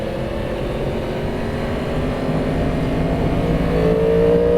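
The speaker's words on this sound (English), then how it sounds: "What's cool about the intake noise is it only comes on when you're giving it throttle." A 2022 Yamaha MT10 motorcycle under throttle, its engine and intake giving a steady, loud droning roar that swells gradually toward the end, with no voices.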